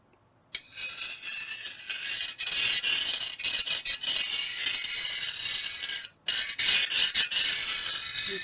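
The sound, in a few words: triangular scraper scraping along a steel sword edge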